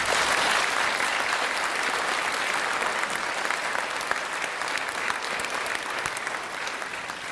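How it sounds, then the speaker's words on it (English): Steady, full applause from a community forum audience, many hands clapping in a dense, even roar that eases slightly toward the end. "But you got a round of applause for that line"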